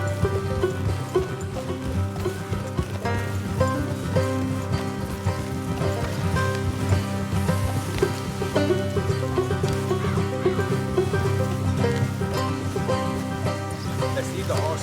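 Horses whinny and snort over a steady bed of hoofbeats and rain-like patter, with layered game-style ambience throughout, in Red Dead Redemption 2 on PS4.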